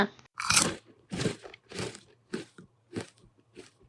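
A cartoon character eats leftover rice with fish curry: a steady series of about seven crisp, crunchy chewing bites, close and fairly quiet, with short pauses between them.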